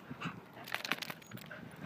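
A pet dog pants quickly and rhythmically close by, the breathy huffs mixed with a faint whimper in a quiet room.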